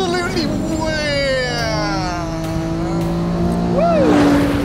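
A 2022 Acura NSX Type S makes a launch-control start in a drag race. Its engine roars loud and close and climbs steadily in pitch through the run, with a brief tire squeal near the end.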